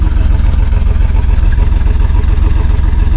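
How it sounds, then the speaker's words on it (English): A rough-running car engine idles with its exhaust up close, a loud, steady low rumble with an uneven, lumpy pulse throughout. "get up close and you can listen to the exhaust"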